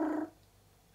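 A person's voice briefly imitates a cat's trill, a short rolling warble that cuts off quickly and leaves near silence.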